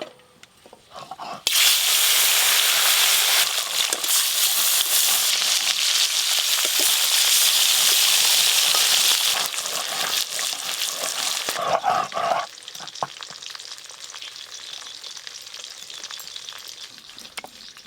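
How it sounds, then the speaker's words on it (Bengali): Tari fish fries in hot mustard oil with a loud, broad hiss that flares up suddenly and holds steady, then settles to a softer crackle near the end. "প্রথমে আমি তারই মাছ ভেজে নেব।"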